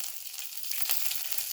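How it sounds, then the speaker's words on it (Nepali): Cumin seeds and garlic frying with dried red chili in hot oil for matar paneer, a steady close sizzle with faint crackles and no voices over it. "अब चाहिँ हामी जिरा फ्राई गर्छौँ अलिकति"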